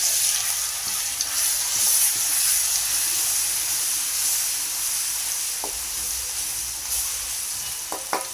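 Ginger-garlic paste sautés in hot oil with mustard seeds and cumin for Bombay vada pav, giving a steady, fairly loud sizzling hiss with a few light stirring taps near the end.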